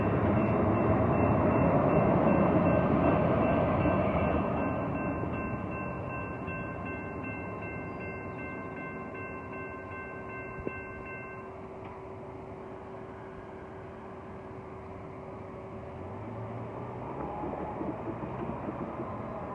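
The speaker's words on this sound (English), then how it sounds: "Amtrak Capitol Quarters, now departing from Oakland Jackson Square, heading to Sacramento Station or Auburn" Amtrak Capitol Corridor train departing Oakland Jack London Square, a long steady rumble with sustained horn-like tones that fade as it pulls away, then quieter rolling noise that swells again near the end.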